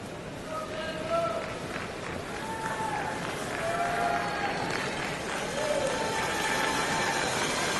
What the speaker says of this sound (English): That roar you heard was after the final rock thrown by Heather Nedewin